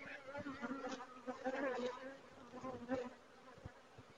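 Honeybees buzz around an open hive during an inspection, a close, wavering hum that swells and fades, with faint speech in the background.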